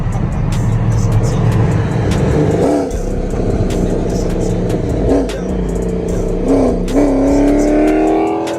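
A Dodge Charger SRT8 V8 roars nearby, its engine revving up in several rising pulls over a loud, rumbling idle, with music playing underneath.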